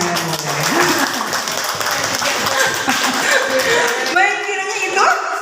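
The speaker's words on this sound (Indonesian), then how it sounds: "tepuk tangan dulu untuk saya" An audience applauds throughout after a lecture on public speaking for teaching, steady dense clapping with a voice briefly audible near the start and chuckling toward the end.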